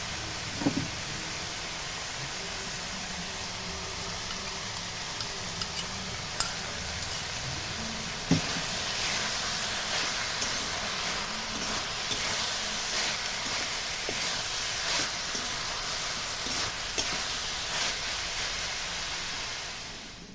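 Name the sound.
prawns cooking in pan with banana flower (mocha)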